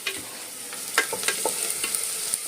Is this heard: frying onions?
yes